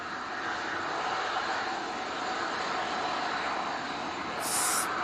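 An EasyJet airliner departs, its engines giving a steady broad roar at moderate distance that holds evenly through the whole stretch, with a faint high whine near the end.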